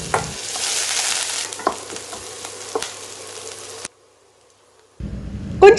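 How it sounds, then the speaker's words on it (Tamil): Onions fry in hot oil in a pan for a Tamil green sundakkai kuzhambu, a steady close sizzle with a few stirring clatters. It breaks into a brief silence, then a fresh, louder sizzle follows. "பெரிய வெங்காயம் வதங்கி வந்த பிறகு நம்ம சின்ன வெங்காயம் சேர்த்துக்கலாம்."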